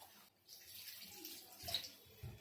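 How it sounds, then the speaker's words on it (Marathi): Hot water pours steadily into a mixer jar with a broad hissing splash, close by, followed by a few low clunks near the end. "मी मिक्सरच्या भांड्यात गरम पाणीच टाकलेलं थोडं आपण हे टाकून घेऊया"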